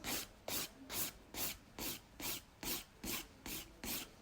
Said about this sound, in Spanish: Así poco a poco vais limando.